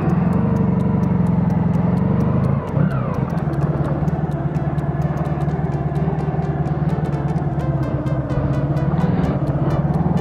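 A 1995 Honda Pan European motorcycle pulls away and rides on, its steady engine drone shifting pitch briefly as it sets off, then holding a constant loud hum throughout.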